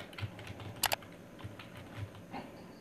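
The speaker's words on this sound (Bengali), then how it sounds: "ব্যাটারনেট লেখার পর এন্টার করবেন।" Computer or laptop keyboard typing produces faint, close, sparse key taps, with a brief sharper double click near the middle, over a low steady background hum and no talk.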